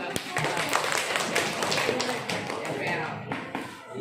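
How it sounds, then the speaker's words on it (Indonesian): Classroom students clap hands together during a lesson, a brief burst of scattered claps mixed with voices and room noise, loud and close. "Tepuk tangan."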